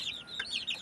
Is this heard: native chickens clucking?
yes